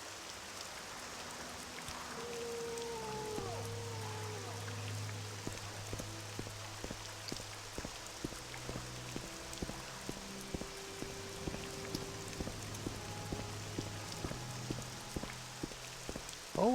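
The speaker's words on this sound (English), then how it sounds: "Always raining here in Seydanin." Steady rain patters throughout a Morrowind game scene in the town of Seyda Neen, a soft continuous hiss layered under low, sustained ambient music tones, with no talk.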